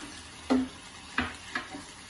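Prawns sautéing in a pan for prawn masala, with a few distinct stirring scrapes and soft sizzling bursts, close and fairly quiet, no voices.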